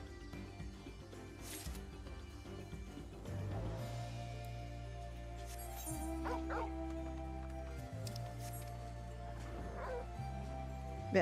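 A female dog whimpers and gives small yips close by in a quiet room, the high cries rising and falling over a steady low hum and soft background sounds.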